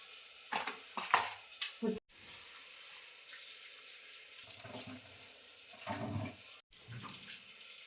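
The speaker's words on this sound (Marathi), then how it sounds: "स्वच्छ 2 ते 3 पाण्याने आता धुवून घेते." Toor and masoor dal rinsed under a running kitchen tap: water gushes and splashes in uneven bursts with swishing of the lentils, briefly cutting out twice, fairly close and with no talking.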